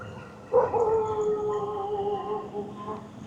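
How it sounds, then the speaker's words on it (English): At night a dog lets out a sudden loud howl that trails off over a couple of seconds, heard alone against quiet surroundings. "It was interrupted by dogs barking, and they're protecting their territory."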